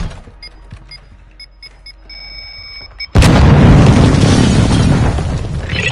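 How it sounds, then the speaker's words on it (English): A video-game airstrike lands: after a few seconds of quiet beeping alerts, a sudden massive explosion erupts and roars on loudly with sustained rumbling debris to the end. "Hostile airstrike near your location."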